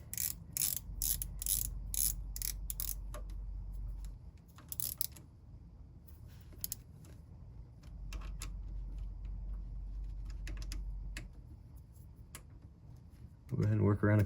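Ratchet clicking in short bursts as small bolts are snugged on a marine generator during an impeller replacement in a tight space, with a low mechanical hum underneath and spells of quiet between.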